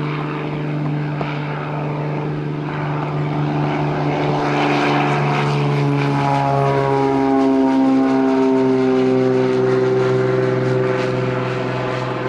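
A propeller seaplane drones steadily at a seaplane fly-in in Grand Marais, Michigan, its engine tone rising and shifting in pitch as it passes close by, loud and continuous with no talking.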